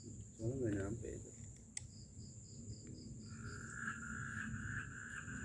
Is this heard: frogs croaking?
yes